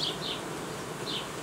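Honey bees buzz over a hive frame during a July colony inspection, a steady faint hum with a few slightly louder buzzing passes, no voices.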